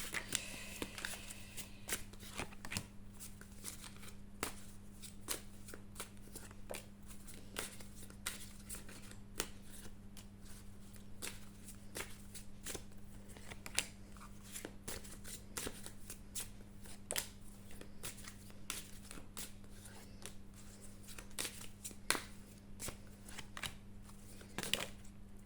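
Tarot cards being shuffled and laid down at close range, a steady stream of soft riffling flicks and sharp snaps over quiet room tone, with no talk.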